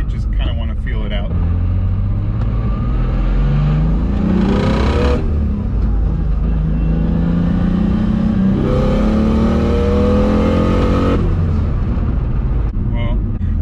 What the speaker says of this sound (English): I'm gonna do just a quick little pull in second gear and about 14 pounds of boost